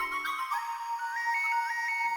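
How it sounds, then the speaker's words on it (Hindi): A phone ringtone plays a bright electronic melody of repeating high notes, clear and close, with no talking. "दया बहन का फोन है। बजने दे, मत उठा।"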